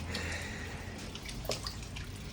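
Rainwater dripping onto a flat apartment roof during a rainstorm, sparse distinct drops over a soft continuous hiss of rain, fairly quiet and close.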